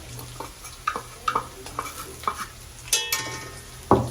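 Crushed garlic stirred and sautéed in a hot pan: a light sizzle runs underneath while a spoon clicks and scrapes against the pan in irregular strokes, close up, with no one speaking.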